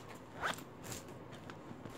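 The zipper on a school supplies pouch makes one quick, close zip against a quiet background.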